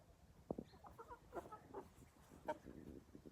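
Chickens wandering a quiet village yard in the morning, giving a few soft, scattered clucks at close range over a faint background.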